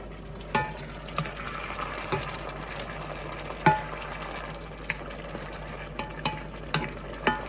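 Mixed vegetables cook in a pan with broth and lime juice, giving a steady close sizzle and bubbling with scattered sharp clicks of a utensil against the pan, and no voices.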